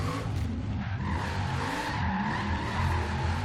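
Supercharged Chevelle 454 SS engine roaring steadily with tire squeal in the Forza Horizon 3 racing game, a continuous loud drone of engine and skidding tires throughout.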